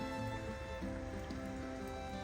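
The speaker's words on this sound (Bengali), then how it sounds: "পাতাগুলোর উপরে বৃষ্টির ফোটা পড়ে" Steady patter of morning rain falling on garden plants and flowers, a soft continuous wash of drops with no voices.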